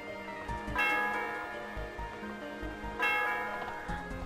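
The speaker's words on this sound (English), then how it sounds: "you can ring the bell at the top" A bell rung at the top of a tower in Pokemon Black 2 sounds twice as a bright, ringing chime. Each strike is followed by a slowly fading resonant tail, with soft game music underneath.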